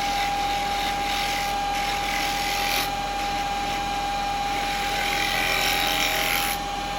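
Wood lathe spinning a wooden pot blank during turning, giving a constant mechanical whine with a steady pitched hum that runs unbroken, close and fairly loud, with faint scraping passes of the tool.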